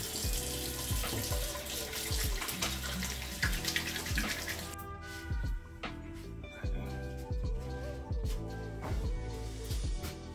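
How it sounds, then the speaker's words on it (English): Water runs from a tap into a sink during handwashing in a home, a steady splashing stream close to the microphone with some faint background sound. "I gotta wash my hands too before I put in the contacts"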